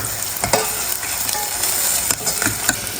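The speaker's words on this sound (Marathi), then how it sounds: "आता यामध्ये लसूण आल्याची पेस्ट टाकायची आहे दोन मिनटं परतून घ्यायची आहे आपल्याला" Ginger-garlic paste sautéing in a hot pan, a loud, continuous close sizzle broken by repeated scraping stirs, with no voices.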